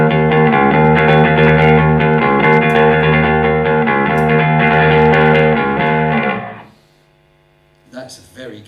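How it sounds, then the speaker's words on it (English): Bass guitar played through a preamp/DI pedal's dedicated distortion gain channel, thick, gritty notes sustained loudly for several seconds before cutting off to hum, then brief talk. "That's very gainy and distorted."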